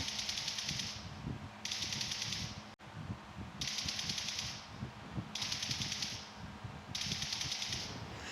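Rapid automatic gunfire from a video game heard through CMF by Nothing Buds earbuds, fired in several sustained bursts separated by short pauses, loud and close.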